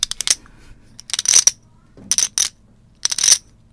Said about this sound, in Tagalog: Barya. Ay, pwede.